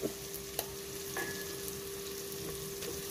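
Tomatoes with ginger garlic paste fry in a pan, giving an even, continuous sizzle up close, with a couple of sharp utensil taps near the start and a thin ringing tone partway through.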